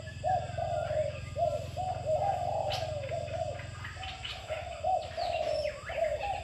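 A spotted dove coos in a steady repeating series of soft, rounded calls, close by, over a constant low hum and faint chirps from other birds.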